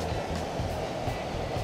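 Steady broadband rush of a river flowing far below a snowy mountain trail in Little Cottonwood Canyon, Utah, in March, a continuous even roar with no voices.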